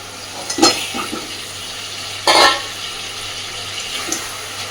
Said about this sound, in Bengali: এইবার ভেজে রাখা মাছগুলো এর মধ্যে দিয়ে দিচ্ছি